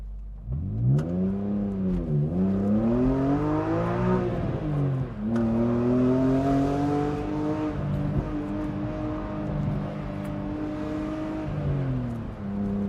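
A BMW E46 M3 with the S54 straight-six and six-speed manual drives along, its engine revving up through the gears with clear pitch climbs and drops at each shift, loud and steady from inside the car.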